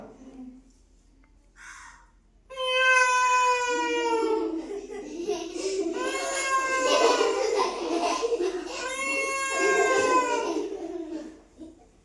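A voice imitates a cat with long, wavering meows, several sustained cries in a row, close and fairly loud after a brief quiet start.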